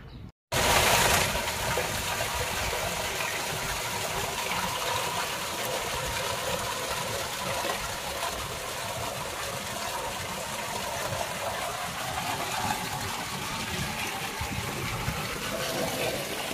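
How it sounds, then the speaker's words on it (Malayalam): Fresh water flows steadily at the old Hatta mosque in Dubai, a continuous close, loud gushing rush that starts after a brief pause and runs unbroken with no talk over it. "മേലെന്ന് നല്ല ഫ്രഷ് വാട്ടറാണ് ഇതിൽ വരുന്നത്."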